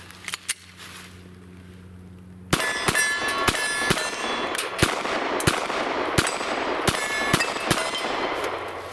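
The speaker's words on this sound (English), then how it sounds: "Let's try the Glock." Glock 19 pistol shots ringing off steel targets at a range, about a dozen sharp reports with metallic clangs at irregular spacing of roughly half a second, preceded by a few quieter distant shots.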